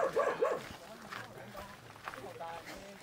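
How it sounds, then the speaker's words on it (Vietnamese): Dogs bark in a few quick yips and woofs at the start, fairly close, then fade under people talking outdoors in light drizzle on a walk. "Mấy chó này ác lắm rồi."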